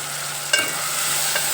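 Broad bean seeds frying in a pan, a steady close sizzle with a short scraping stir midway and another fainter one near the end, no voices.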